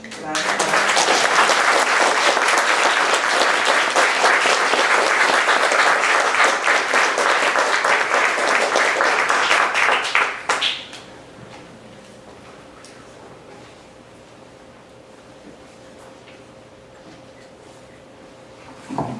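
Audience applauds in a hall after a poetry reading at a prize announcement event, a dense sustained clapping for about ten seconds that cuts off sharply, leaving quiet room tone with a faint steady hum.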